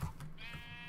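Sheep bleating inside the video game Minecraft on a small farm, a single short wavering bleat lasting about a second, moderately loud and clear with no talk over it.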